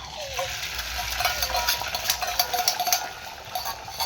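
Beaten egg sizzling in a hot wok while making an egg roll, a steady crackling fry with faint scraping and stirring throughout, close and moderately loud.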